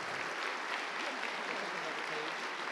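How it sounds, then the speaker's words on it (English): Steady audience applause fills an awards ceremony hall at an open modeling competition, continuous dense clapping from a sizable crowd at even loudness throughout. "Let's get a round of applause there."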